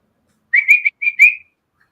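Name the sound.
person whistling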